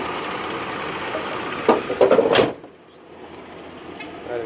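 A 1997 Chevrolet Suburban idles with a worn brake booster, a steady engine hum broken by a cluster of hissing, knocking bursts before the sound drops off abruptly, heard close under the hood.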